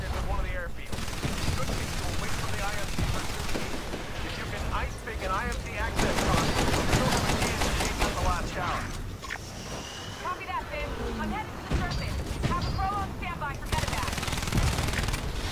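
Bursts of automatic gunfire from the Titanfall video game rattle through the whole stretch in rapid, loud volleys with short pauses, while a voice talks over the shooting.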